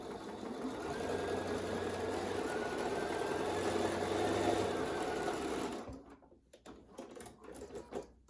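A sewing machine top stitches the binding of a wall quilt over a hanging loop, running in a steady, close whir for about six seconds before it stops, leaving a few soft handling clicks.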